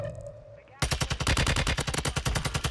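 Rapid automatic gunfire in the Warzone 2 video game, a dense rattling burst of shots starting abruptly after a quiet moment and continuing loudly to the end, the player under sniper fire.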